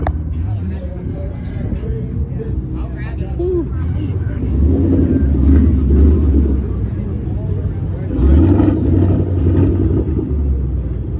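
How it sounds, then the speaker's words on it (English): A Mustang V8 engine rumbles and revs in deep, swelling pulses, loud and close at a car meet, with a person's voice faintly heard over it. "Mustang sound good. Any V8 to me sound good."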